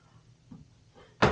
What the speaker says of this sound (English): Someone in my house keeps opening and closing doors.